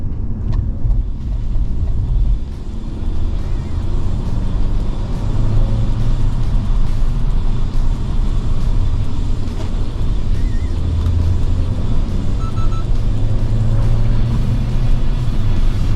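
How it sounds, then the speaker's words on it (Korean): BMW 520i driven uphill in sport mode on a winding mountain road: a loud, steady in-cabin engine and road rumble with a deep low drone that swells slightly as it climbs, no talking. "주행 모드는 스포츠 모드로 하고 한번 달려보도록 하겠습니다"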